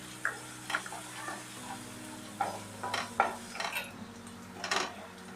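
Turmeric frying in a pan for potato stuffing, with scattered sharp scrapes and clinks of a spoon stirring against the pan over a low, steady sizzle.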